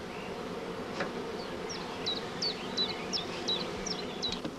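Honey bees swarm around a queen cage hung between foundation frames in a hive, making a steady close hum. A bird chirps sharply and repeatedly above the buzz.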